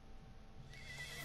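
An Equus horse whinnying in the video game Ark: Survival Evolved, a short rising neigh that swells near the end over a low background of game ambience.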